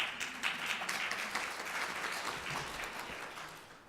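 Fairly faint audience applause at an anniversary symposium panel, scattered clapping that gradually thins out over a few seconds, with no speech.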